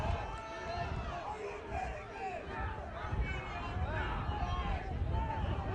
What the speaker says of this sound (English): anxious groan from the crowd